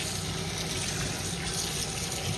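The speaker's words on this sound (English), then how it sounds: "Give them a good rinse, take off any tags, and then set them in a bowl of water." Produce, with its tags removed, being rinsed in a bowl of water, giving a continuous splashing, running-water wash at close range with no voices.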